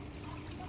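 Water pours steadily into a tank meant for magur catfish, a brief, continuous close rushing splash with no pauses.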